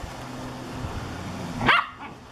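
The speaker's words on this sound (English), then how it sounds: "I don't think it's necessary to bark when they're playing." A mini poodle mix barks once sharply and loudly during play, following a low continuous hum and rustling, then quiets to a faint background.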